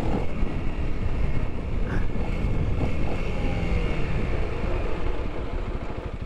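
A 2021 Honda CRF300L motorcycle climbs a hill in sixth gear at half throttle, holding about 50, its engine a steady, close drone mixed with heavy wind buffeting on the microphone.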